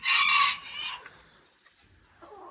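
A rooster crows loudly and close by, one drawn-out call, then quieter clucking and faint farmyard sounds.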